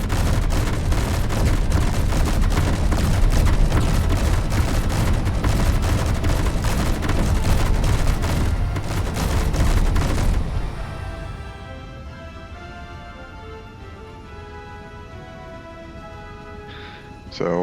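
Sustained heavy gunfire in the Space Engineers game during an attack on a space pirate base, a dense rapid barrage of booming shots for about ten seconds that stops abruptly, leaving quieter tonal game sounds.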